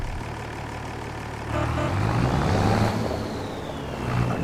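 A tractor engine idles in Farming Simulator 25, a steady low drone that swells a little louder midway, heard alone without talk.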